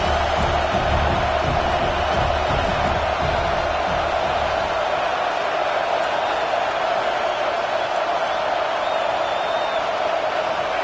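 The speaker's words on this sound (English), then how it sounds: "It's early, but this crowd is fired up. Listen to this noise here." Stadium crowd in a college football video game, Washington versus Tennessee, a loud steady roar of cheering fans filling the whole stretch without pause.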